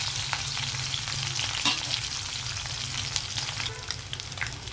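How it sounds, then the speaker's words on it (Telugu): Dried anchovies frying in hot oil, a steady, dense crackling sizzle with occasional stirring scrapes, close and continuous with no talking. "ఆయిల్ హీట్ అయిన వెంటనే మనము ఎండినెత్తళ్ళు వేద్దాము ఇవి కొంచెం ఫ్రై చేసి పక్కకి తీసేసి"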